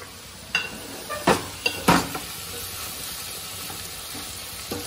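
Chili powder being stirred into a mutton head curry as the oil sizzles, a steady sizzle under a few scrapes and knocks from the spoon against the pot.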